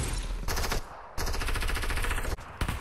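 Rapid automatic gunfire in the video game Fortnite, with loud, close bursts that break off briefly and then resume in another short volley.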